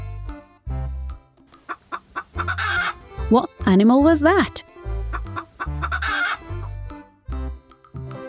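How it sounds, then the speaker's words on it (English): A toy's recorded farm-animal sound of a baby chick chirps in quick, rising bursts mid-clip, loud and close, with a voice talking before and after. "It's a chick. Chicks are baby chickens."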